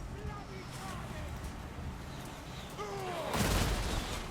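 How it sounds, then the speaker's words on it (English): Artillery fires in a High Elves battle in Total War Warhammer 2. A booming burst breaks out near the end over a low, rumbling battlefield ambience, fairly faint overall. "The artillery's firing too."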